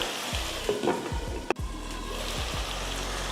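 Tomato and rice cooking in a frying pan for a lunch box dish, with a steady sizzle, soft scraping stirs and one sharp clack of a utensil against the pan.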